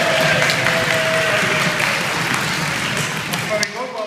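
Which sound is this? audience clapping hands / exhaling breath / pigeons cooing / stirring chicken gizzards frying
audience clapping hands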